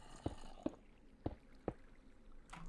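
Water sounds in the Minecraft video game: a few soft splashy blips in quick succession, fairly quiet, followed by a brief rushing swell at the end.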